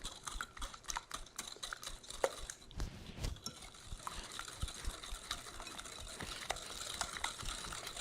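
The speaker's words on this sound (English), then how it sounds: "let's give it a whisk, breaking up that yolk" Egg yolk whisked in a bowl, quick light ticking strokes in an uneven rhythm, faint and close with a soft splash partway through.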